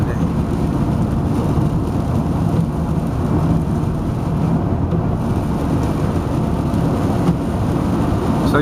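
Heavy rain pours down outdoors near a highway as a steady, dense hiss that holds at one level throughout, with no voices.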